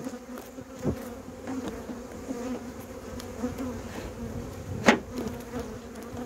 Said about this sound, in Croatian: Stresamo pčelu.